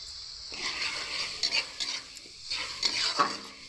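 A utensil stirs and scrapes spices with tomato in a hot oiled pan for an aloo omelette masala, with light sizzling and repeated metallic scraping strokes in short bursts, close and clear.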